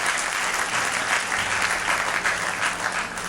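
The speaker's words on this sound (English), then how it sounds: "big round of applause." Audience applause at a 2009 PCA president's address, loud dense clapping from a large crowd, continuous and even throughout.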